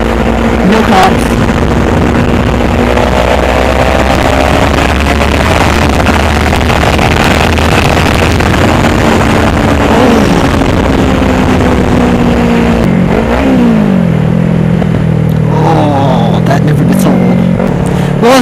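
A Kawasaki Ninja 300 motorcycle engine drones loudly while riding, its pitch rising and falling with the throttle beneath heavy, continuous wind rush.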